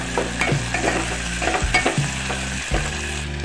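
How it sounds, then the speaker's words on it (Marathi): Potatoes and vegetables cook in a pan for veg pulao, with a steady sizzle under repeated scraping stirs of a spoon against the pan, close and fairly loud. "आलू वगैरे टाकले म्हणून आम्ही इथे 2 मिनिट शिजू देणार आहे"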